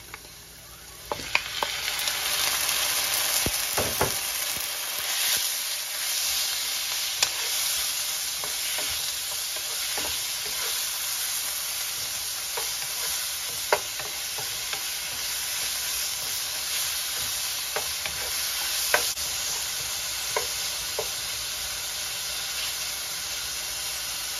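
Pork frying in a pan for Filipino ginataang kalabasa at sitaw, a steady loud sizzle and hiss punctuated by scattered clicks and scrapes of stirring, with no voices.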